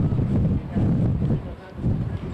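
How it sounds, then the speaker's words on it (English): Strong gusts in the 40-mile-an-hour range blow across an outdoor high school baseball field, buffeting the microphone in loud, rumbling low surges that swell and ease in waves. "Wind has not subsided whatsoever here. Only it's intensified."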